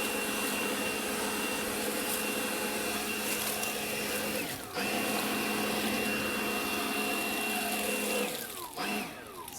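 A battery leaf blower runs on its low setting over garden mulch, a steady whining whoosh with a constant tone, briefly dipping twice as the airflow shifts.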